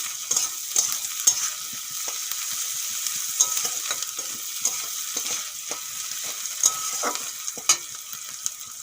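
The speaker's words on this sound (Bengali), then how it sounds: "পেঁয়াজগুলো খুব সুন্দর করে ভেজে নিয়েছি" Onions fry in a pan with turmeric powder, salt and a green chilli, a bright steady sizzle overlaid with frequent rhythmic scraping stirs of a spatula, close and alone without speech.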